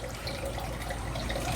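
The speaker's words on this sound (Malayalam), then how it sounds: "അതിലേക്ക് പേർപ്പിളും കൂടി ഒഴിക്കുക" Purple popsicle mixture poured into a container for homemade popsicles, a steady soft liquid trickle running continuously at low volume.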